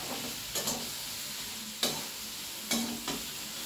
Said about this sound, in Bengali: এবার আবার ভালো করে সমস্ত কিছু একসঙ্গে মিশিয়ে দিচ্ছি